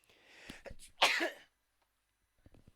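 A single sharp sneeze bursts out loudly, preceded by a short breathy inhale and followed by quiet, with a faint voice briefly at the end.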